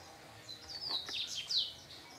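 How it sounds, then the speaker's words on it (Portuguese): Birds singing outdoors at a countryside farm, a few bright, quick chirps and short trilling phrases rising over a quiet background, fairly faint and a little distant, without any talking. "Os passarinhos cantando."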